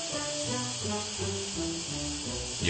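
A steam locomotive releases a continuous loud hiss of steam as it begins to pull away, with rhythmic chuffing pulses underneath.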